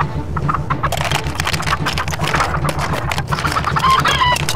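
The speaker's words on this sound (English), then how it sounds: "Oh, guys, I hear something. What? Oh, the chicken." Chicken clucking amid a busy, noisy setting with constant background clatter, the fowl's calls repeating irregularly through the whole stretch.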